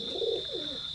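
Teddy pigeons of an imported bloodline coo in a low, rolling murmur, one soft phrase swelling and fading over a steady high hiss.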